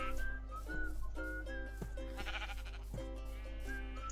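Sheep in the Minecraft video game bleat repeatedly in short wavering calls over a steady low background hum, several bleats overlapping across a few seconds, with no talking.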